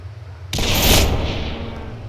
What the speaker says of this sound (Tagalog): paputok siya, guys. Mahilig kasi ako sa paputok.